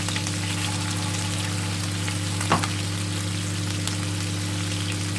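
Chicken frying in a pan for a Ceylon curry, a dense continuous sizzle with a low steady hum underneath and one brief stir or knock midway.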